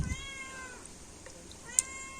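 Two drawn-out meows from a cat in a home kitchen where coconut milk is being pressed for prawn malai curry, with a brief pause between them and a small click near the second call.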